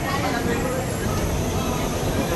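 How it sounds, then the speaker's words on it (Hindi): Delhi railway station ambience: a dense, steady wash of crowd babble, movement and distant rail noise that stays at an even loudness throughout. "Delhi rail station."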